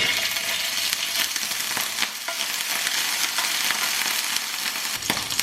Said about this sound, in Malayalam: തീ ഒരു മീഡിയം ഫ്ലെയിമിലാക്കിയിട്ട് നമുക്കിതിലേക്ക് ഇഞ്ചി വെളുത്തുള്ളി പേസ്റ്റ് ചെയ്യാം.